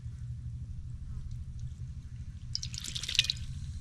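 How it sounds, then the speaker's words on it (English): A garden water hose sputters with trapped air, a low irregular gurgling and dripping of water throughout, with a brief brighter splashing spurt toward the end. "I'm hoping this is just because there's a bunch of air in this water hose."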